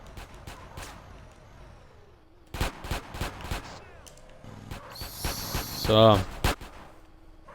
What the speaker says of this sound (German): jetzt schiessen sie auf unseren LKW da, Mann